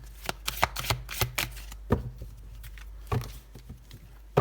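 Tarot cards being cut and shuffled up close, a rapid run of crisp papery slaps and riffles in uneven bursts, heard alone without talk.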